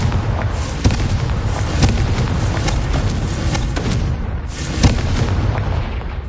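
Repeated booming blasts from a Confringo fire spell in the Hogwarts Legacy video game, loud and dense, with bursts spread across the whole stretch and no talking.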